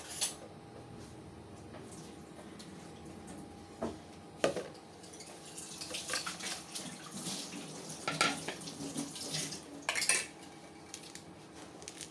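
Water drains in a kitchen while pancit canton is cooked, with splashing and pouring mixed with clattering utensils and pots, close by in intermittent bursts.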